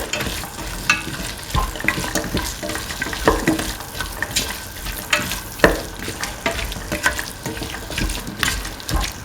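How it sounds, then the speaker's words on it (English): Salted chickpeas and potatoes stirred in a frying pan: continuous scraping and clattering strokes with a soft sizzle underneath, close and fairly loud, with no talking. "Salt and mix that in."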